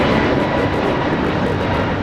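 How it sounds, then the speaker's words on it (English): An American Airlines Airbus A321neo departing Los Angeles LAX for Dallas Fort Worth gives a brief, steady engine roar, loud and continuous across the short moment. "This is American Airlines 1659 taking off to Dallas Fort Worth on the A321neo."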